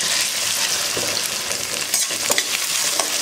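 Cut okra frying in hot oil, a loud, dense, continuous sizzle close up with a few soft stirring knocks.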